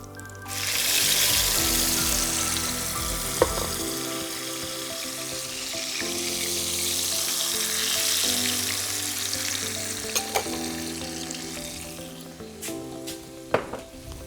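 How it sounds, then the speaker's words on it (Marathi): Tomato puree poured into frying masala for chicken changezi bursts into a loud hissing sizzle that swells, then settles into steady frying with occasional sharp spoon clicks against the pan. "मसाल्याला चांगलं तडकून द्यायचं आहे आणि ह्याच्यामध्ये आपण ॲड करणार आहोत टमॅटोची प्युरे"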